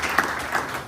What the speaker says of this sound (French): Acclamons très fort les Seigneurs.